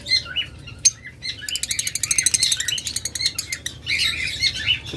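A pair of parblue lovebirds chirps close by in rapid, bright trills and tweets, bursts of quick repeated notes rising and falling with brief pauses, no voices heard.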